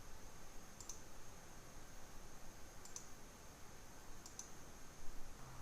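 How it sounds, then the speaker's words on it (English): Three soft mouse clicks come at roughly even two-second intervals while someone works in document-analysis software, faint above a steady background hiss. "you can continue opening the sections by clicking the little green arrows"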